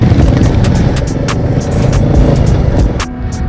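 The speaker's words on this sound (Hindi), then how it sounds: "बाइकर्स का लाइनअप देखो" A line of motorcycles rolls past on the Kaksang La mountain road near the Indo-China border, with loud, close, continuous engine roar and no talking.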